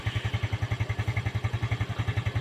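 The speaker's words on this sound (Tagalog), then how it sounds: "Yung minor ng makina." A Yamaha Sight 115 motorcycle idles up close with a steady, evenly pulsing putter and a slight mechanical clatter, with no other sounds.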